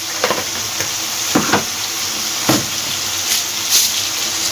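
Spices sautéing in a pan for a Bengali papaya curry with turmeric and cumin powder, giving a steady low sizzle with a few soft stirring scrapes, close and alone.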